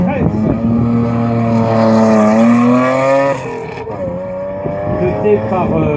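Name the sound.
Alpine A310 V6 group 5 race car (1977) engine at hillclimb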